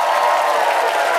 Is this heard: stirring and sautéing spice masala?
no